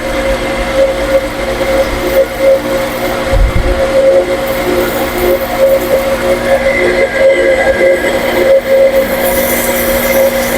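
A deepwell pump converted for shallow-well use runs steadily, a continuous low mechanical hum with a constant tonal whine throughout, alone with no talk.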